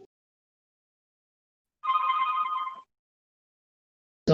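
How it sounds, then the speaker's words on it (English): A phone rings once in a quiet lecture room, a short electronic trill lasting about a second, followed by silence before another sound begins. "Someone have a phone call."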